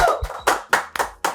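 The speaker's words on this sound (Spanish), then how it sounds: "Recibamos con un fuerte aplauso a Doralicia Brazoban" Several distinct, spaced hand claps ring out in a studio during a podcast, as a guest is welcomed, each sharp and close with brief decay between them.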